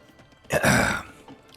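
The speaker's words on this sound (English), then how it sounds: "Had to clear my throat drinking some Miller High Life here." A single short, gravelly throat clearing after drinking Miller High Life beer, a close rough burst lasting about half a second between quiet moments.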